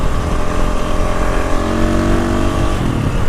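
A KTM 525 dual sport motorcycle revs hard on the street, its single-cylinder engine barking loudly and close in a continuous rising and falling snarl.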